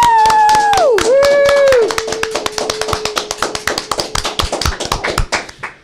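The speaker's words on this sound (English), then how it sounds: "we can get a round of applause for our amazing custodial staff who keep West clean and safe" A school crowd's round of applause for custodial staff on Unity Day, starting under a voice's whooping cheer, then rapid scattered clapping that thins out and fades toward the end.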